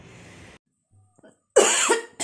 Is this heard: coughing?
yes